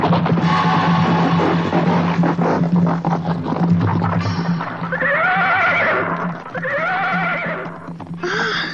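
Horses neigh several times in an Indonesian audio drama as they approach, loud drawn-out whinnies rising and falling over a busy background, with a faint clip-clop and scraping underneath.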